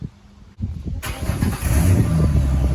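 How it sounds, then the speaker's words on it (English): Cold start of a manual 2010 Ford Mustang V6 fitted with a new exhaust: starter cranking, then the engine catches and settles into a steady, fairly quiet idle, close by, with no talking. "he's going to go ahead and do a cold start, and we're going to compare before and after"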